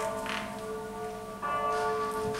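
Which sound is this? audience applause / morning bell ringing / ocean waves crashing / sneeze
morning bell ringing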